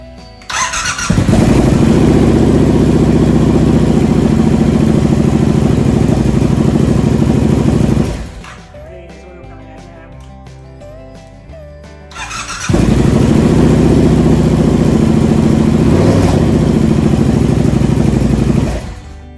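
A supercharged Triumph Bobber motorcycle engine starts and idles loudly and close for about seven seconds, cuts out into quiet mechanical ticking, then fires up again and idles steadily with a slight whine.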